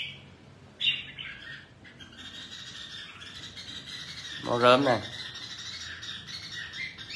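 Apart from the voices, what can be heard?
caged birds calling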